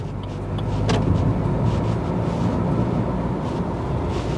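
A 2022 Maruti Suzuki Baleno facelift cruises smoothly in fifth gear, its engine a low steady hum under road and wind noise heard from inside the cabin, with no voices.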